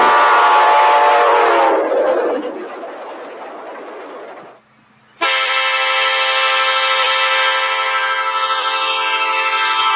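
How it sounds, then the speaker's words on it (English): An Amtrak F40PH locomotive's Nathan K5LA or P5 series air horn sounds in two loud, chord-like blasts: a long first blast that fades and drops away, a brief gap, then a second sustained blast cutting in sharply. "Amtrak's F40PHs came equipped with either a Nathan K5LA or P5 series air horn."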